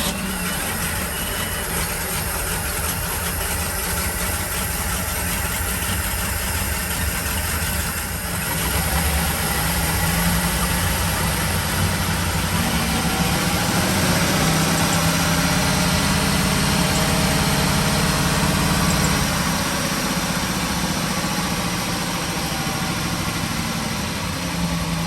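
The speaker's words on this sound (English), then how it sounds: "So here we have the starboard motor, and she was rebuilt a number of years ago. So let's watch her fire up." The rebuilt starboard motor of a 2000 Sea Ray Sundancer 310 boat turns over and settles into a steady, loud, continuous idle with a low rumbling drone.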